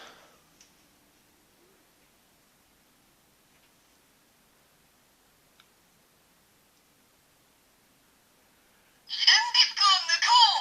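Near silence for several seconds with faint ticks after a Samurai Gattai DaiGoyo toy ejects its disc, then a brief burst of garbled electronic toy voice near the end.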